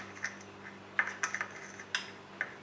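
Spoon clinking against a bowl while ordinary turmeric powder is stirred in, several light, sharp metallic taps at irregular intervals over a steady low hum, close and fairly quiet.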